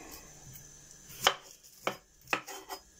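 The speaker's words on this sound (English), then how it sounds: "So we're going to chop the onion up." Onion chopped by knife on a cutting board, four distinct sharp chops spaced irregularly, close and fairly loud against a quiet kitchen background.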